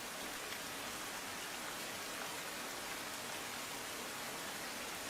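Heavy rain pours down steadily in Gujarat, a dense, even hiss of downpour that fills every moment without letting up, with no voices.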